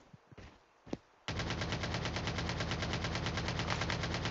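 Rapid video-game machine-gun fire bursts in after a couple of quieter thuds, a loud, evenly paced stream of shots continuing to the end.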